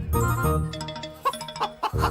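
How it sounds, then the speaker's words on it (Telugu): A rooster clucks in short, loud bursts in a comedy film scene, its choppy calls close and uneven over a busy music-like background. "ఇక్కడెక్కడో కోడి సౌండ్ అనిపిస్తుంది."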